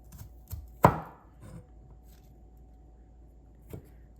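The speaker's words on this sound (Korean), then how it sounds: "이 마늘 왜 이래? 이거 먹어도 되나? 이 부분만 잘라야 되겠다." Knife cutting garlic on a cutting board, in a Korean home kitchen while making beef seaweed soup: a few soft taps, then one sharp, close chop followed by scattered lighter knocks. There is no talk.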